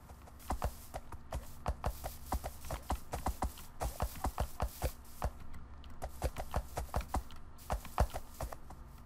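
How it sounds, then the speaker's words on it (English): Horse hooves clopping in a steady trotting rhythm as the horse pulls a wagon in the Minecraft Animania mod, crisp and fairly close, with no talk over them. "I like the sound the horse makes."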